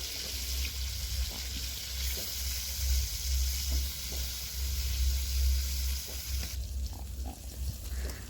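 Hilsa fish fries in hot oil in a pan, giving off a steady, dense sizzle. The crackle is close and constant, with no talk.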